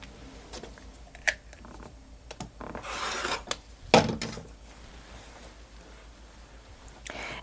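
Rotary cutter trimming quilt fabric along a ruler, scattered soft rasps and rubs with a couple of sharper ticks and a brief louder cutting swipe, quiet and close.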